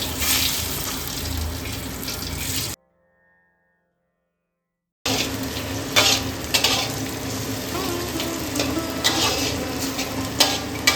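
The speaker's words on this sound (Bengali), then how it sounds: "ফোড়নটা দিয়ে হালকা হাতে নেড়ে দিয়ে দেব কুচনো পেঁয়াজ" Whole cardamom, cinnamon, bay leaf and dried red chilli with chopped onion frying for mutton kosha, a close, even sizzle with scraping stirs, cut by a brief silent gap midway.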